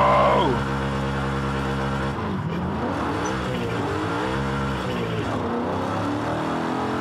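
A 750 HP twin-turbo BMW E92 M3 in Forza Horizon 5 whines up then drops as gears change, followed by a steady revving drone that rises and falls, loud and close.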